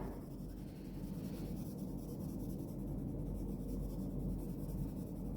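Steady pencil shading across paper, close and quiet, a continuous soft scratchy rub with no talk over it.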